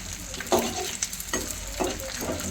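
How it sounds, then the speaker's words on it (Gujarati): Edible gum (gond) frying in hot oil for white sesame kachariya, a steady close sizzle with a few louder bursts of crackle as the pieces are separated and stirred. "આપણે એમાં ગુંદર તળી લઈશું"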